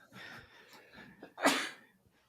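A single sharp sneeze bursts out after a brief quiet inhale, close and fairly soft overall.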